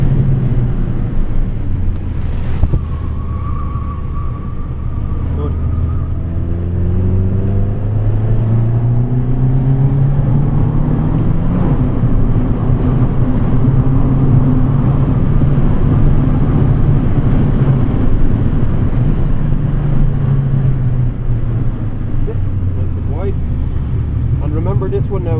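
A Ferrari on a track accelerates through the gears. The engine note climbs in rising sweeps and drops at each upshift before climbing again, loud and close, with a voice talking over it.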